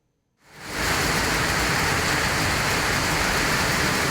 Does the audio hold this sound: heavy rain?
yes